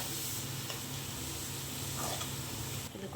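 Onion and green chilli frying in oil for pork gravy produce a continuous close hiss and sizzle with faint stirring, steady throughout before a slight drop at the end.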